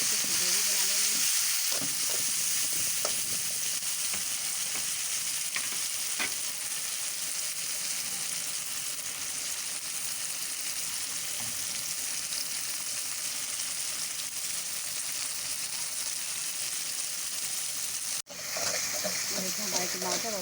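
Tomato and onion gravy with garam masala sizzles and fries steadily in a pan, a loud, continuous hiss with occasional stirring scrapes, ongoing throughout with no break.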